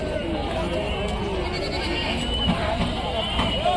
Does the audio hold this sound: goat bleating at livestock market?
yes